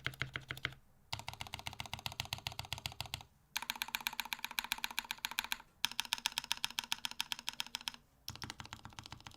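Rapid, continuous clacking of mechanical keyboard keys, close up, in steady typing runs broken by brief pauses.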